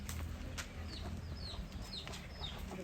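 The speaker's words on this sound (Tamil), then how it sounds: "இந்த ஃபுல்லாக அடை வச்சுருக்கோம் கோழியை." Broody native country hens sitting on eggs in farm cages give soft, scattered clucks and short chirping calls over a steady low hum, close by and moderately loud with no voices.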